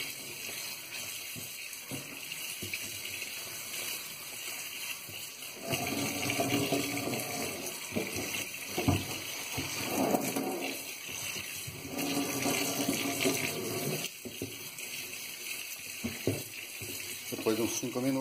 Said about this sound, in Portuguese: ele passa para o processo de lavagem para retirar todo esse leite que escorreu dele